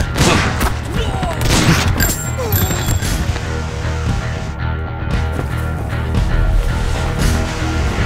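Gunfire volley in a Bengali-dubbed action movie scene, a loud continuous burst of shots and booms with sharp cracks packed densely across the whole stretch, layered over a dramatic soundtrack.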